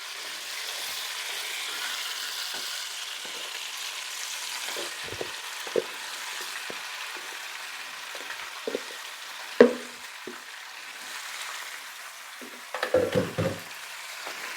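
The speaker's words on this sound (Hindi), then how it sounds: "इसमें गोश्त शामिल करके इसकी फ्राइंग शुरू कर दी जाएगी" Mutton for Kashmiri rogan josh fries in oil over a high flame, a soft continuous sizzle under scattered clacks and scrapes of stirring, with a sharper clatter of utensils near the end; no voices.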